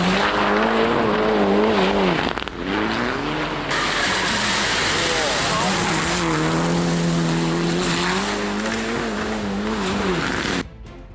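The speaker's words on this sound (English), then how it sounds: "A car slides out of control and slams into a parked vehicle" A car slides out of control toward a parked vehicle, its tires letting out a long, wavering, high-pitched squeal over loud road noise before the sound cuts off abruptly near the end.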